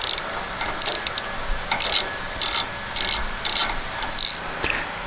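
A ratchet tightens spark plugs into the aluminum cylinder head of a dune buggy, giving close, crisp bursts of rapid clicking in short repeated strokes with brief pauses between them and no talking.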